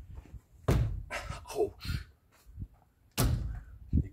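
Dull thuds from a tap test on engineered solar-panel racking for a heat pump, several knocks spaced over a few seconds, close and moderately loud, with a brief voice between them.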